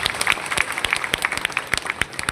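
A church congregation at a first-anniversary service claps loudly, brisk uneven hand claps from many people close by, filling the moment without speech.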